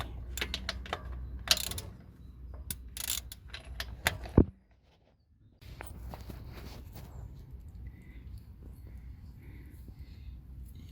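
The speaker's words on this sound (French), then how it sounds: "il faut utiliser une douille de 24 pour ouvrir le boulon de remplissage de vidange de boîte" 24 mm socket ratchet loosening the gearbox fill bolt on a Citroen C1 / Peugeot 107 / 108: a run of sharp, close metallic clicks and bursts, a brief quiet pause, then softer handling and shuffling noise.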